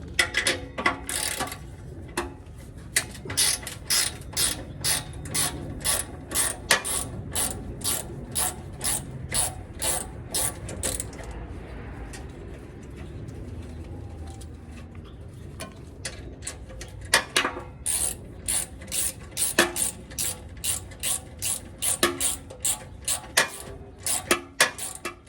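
A socket ratchet works a 15 millimeter nut on the exhaust clamp of a 2021+ Ford Bronco 2.7L, giving bursts of close, rapid clicking with short pauses between strokes and a quieter stretch midway.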